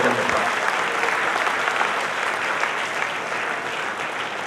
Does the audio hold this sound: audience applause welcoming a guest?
yes